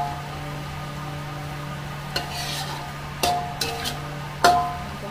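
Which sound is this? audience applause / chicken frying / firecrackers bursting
chicken frying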